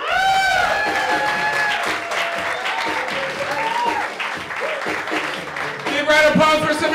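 Loud comedy club audience applauding and cheering as a stand-up comedian is introduced, dense clapping mixed with whoops, while a voice talks over the crowd near the start and end.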